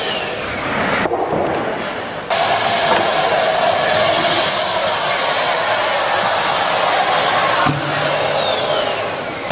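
A Merlin 2-in-1 mini handheld vacuum cleaner runs with a loud, steady motor whine and airflow roar throughout, shifting pitch slightly as it moves and pauses briefly near the start and end.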